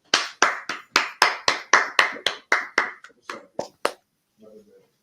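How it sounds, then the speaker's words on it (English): Audience members clap together during a class, a sequence of about a dozen sharp, loud claps in a steady, slowing rhythm that thins out and stops, followed by a brief murmur of voices. "Clap it up."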